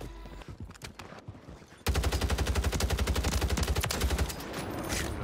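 Renetti gunfire in the video game Warzone: sparse shots at first, then from about two seconds a loud, fast, sustained burst of rapid automatic fire that keeps going almost to the end of the clip.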